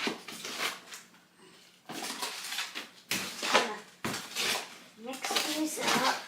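Perlite and orchid bark potting mix being stirred together for repotting tropical plants, giving several close, gritty scraping and rattling bursts with short breaks between them.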